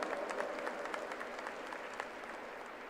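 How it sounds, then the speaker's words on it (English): A convocation audience at MIT World Peace University in Pune claps in steady applause, many hands heard at moderate distance with a few sharper claps popping out, fairly quiet overall. "My dear friends, here the applause should be louder."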